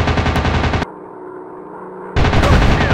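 Rapid machine-gun bursts from a fighter plane in a 3D flight video game fire loud and close, stop abruptly for about a second, then resume in another sustained burst.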